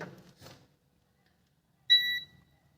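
An electronic buzzer on a phone circuit board sounds once during a repair test, a single short, clear steady beep after brief speech, then quiet.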